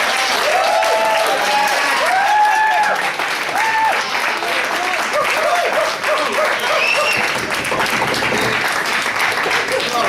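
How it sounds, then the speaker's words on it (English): Audience at a student union candidates' question-time event breaks into a big round of applause, dense steady clapping with some cheering voices sustained throughout. "So if we can have a big round of applause."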